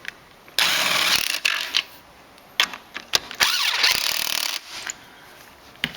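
Bursts of a power driver whirring and ratcheting as seat bolts are torqued down on a 1998–2005 Ford Ranger, several loud close pulls separated by brief pauses.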